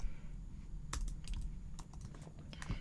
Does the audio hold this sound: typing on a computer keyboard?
yes